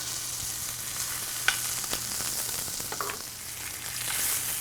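A ribeye steak searing in a hot pan with Szechuan pepper, a close, continuous sizzle broken by a few crisp pops and the scrape of handling.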